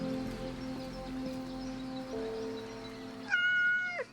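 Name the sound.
cat meowing in a video game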